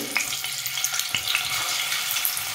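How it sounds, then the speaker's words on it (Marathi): Eggs fry in oil over low heat with red chili powder and turmeric, giving a close, continuous sizzle broken by a few sharp pops and clinks, with no one talking. "त्यात आपल्याला आता हे अंडे फ्राय करून घ्यायचे"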